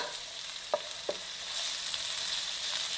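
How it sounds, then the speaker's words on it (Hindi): Finely chopped medium onion sautéing in oil gives a thin, steady sizzling hiss, with two brief spoon taps early on and the frying growing slightly louder afterward. "प्याज को आपने सौते करना है"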